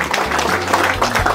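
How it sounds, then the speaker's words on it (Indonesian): A crowd applauds an official during a government visit, a short stretch of dense steady clapping with a low hum underneath. "Tepuk tangan dulu untuk beliau."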